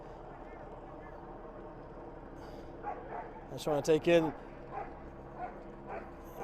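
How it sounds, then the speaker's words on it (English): Police dogs barking during a protest that turned violent in Aurora, a short burst of sharp barks rising out of low crowd and street noise, with a person speaking nearby. "You can hear the dogs barking."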